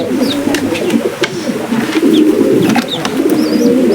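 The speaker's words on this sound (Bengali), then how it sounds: "এটা হলো বাংলা কবুতর বাচ্চা।" Low cooing of a young Bengali pigeon squab rumbles steadily and close by, soft throaty murmurs repeating without pause, with a few faint chirps from other birds in the background.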